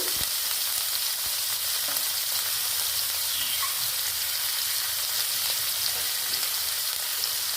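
Dried loitta fish fries in a pan, an even, close crackling sizzle running throughout with a few faint clicks, no talking.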